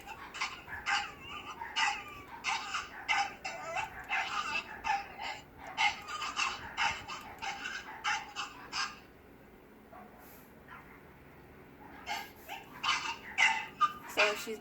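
A dog named Lucy barks and whines in rapid bursts, followed by a short quiet pause before the yips and whimpers start again, a little distant, with some voice faintly underneath.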